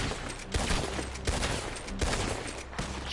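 Rapid bursts of gunfire in Red Dead Redemption 2 Online, several loud shots cracking at a fairly steady rhythm over a dense, noisy background.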